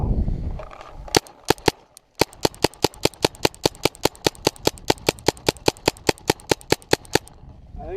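A paint sprayer gun firing frozen paint, heard as a rapid, evenly spaced series of sharp cracking shots after a short pause, loud and close, with a brief low rumble at the start.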